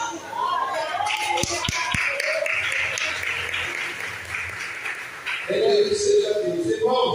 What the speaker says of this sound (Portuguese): Você pode sentar aplaudindo o nome do Senhor Jesus